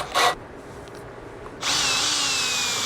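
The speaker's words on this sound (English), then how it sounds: "I'm getting some experience in seeing how it is to drill out this stainless" A power drill bores into stainless steel diffuser parts from an industrial pressure washer. A brief whir starts and stops, then after a pause a loud, steady high-pitched grinding whine runs on continuously up close.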